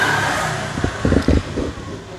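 Short revving bursts come from the engine of a Toyota Kijang fitted with a racing resonator exhaust, a few quick blips over a steady low idle rumble.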